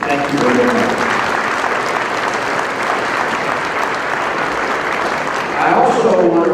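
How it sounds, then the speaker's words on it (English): Audience at a Marine Corps birthday ball breaking into sustained applause, a dense, steady wash of clapping lasting several seconds and swelling slightly at the end. "please, a round of applause for them"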